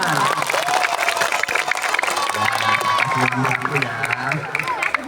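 Audience in a school Ramadan gathering claps and cheers loudly and steadily for about five seconds, with children's voices and crowd chatter mixed in throughout.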